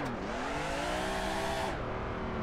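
Race car engine in the Assetto Corsa driving game, driven with clutch, throttle and stick shift, revving hard in a loud, close, continuous roar whose pitch climbs, then drops abruptly after a shift near the end.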